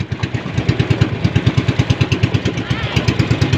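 A small engine running in a steady rhythmic putter, close and fairly loud, with regular pulsing beats throughout and no one speaking over it.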